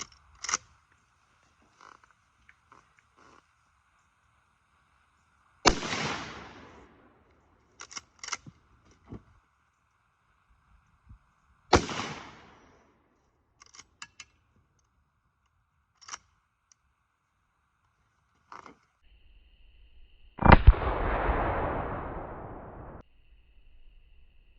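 .30-30 rifle shots fired at a target of brick siding, several sharp separate reports spaced seconds apart with long quiet gaps between them and a final louder blast with a rumbling tail.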